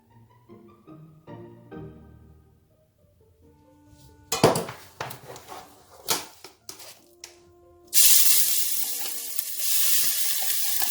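Oil hitting a hot pan on the stove, then puréed onion added with oil: a few clanks and stirring knocks, then a loud, steady hiss of frying that erupts suddenly and holds to the end.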